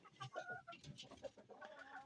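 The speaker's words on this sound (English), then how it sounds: "It is cool being around chickens." Chickens cluck inside a coop in quick, uneven bursts of short calls, heard faintly and fairly close, with no talk over them.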